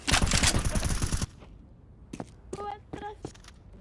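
A rapid burst of Counter-Strike 2 gunfire rattles loudly for about a second, then gives way to quiet with a few short, faint in-game sounds.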